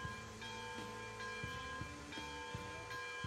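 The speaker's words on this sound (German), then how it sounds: "Kurz die Glocke angemacht." A steam locomotive's bell in the Railroads Online game rings in a steady repeating rhythm, each clang spaced roughly a third of a second apart over a low rumbling background, with no voices.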